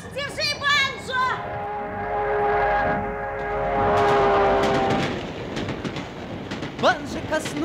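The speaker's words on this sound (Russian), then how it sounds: "Осторожно! Встречный поезд!" An oncoming passenger express train rushes past as a radio drama sound effect, its horn sounding in long tones before a swelling rumble and rattle of cars, mixed with shouting voices.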